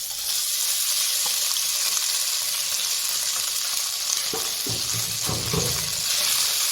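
Boiled chicken pieces hitting a hot pan and stirred over low flame, with a constant bright sizzle and a few dull thuds and scrapes near the end, close and free of speech.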